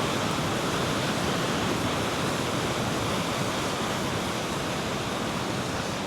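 The River Valency at Boscastle rushes along, a dense steady hiss of flowing water filling the scene, loud and continuous with no voices.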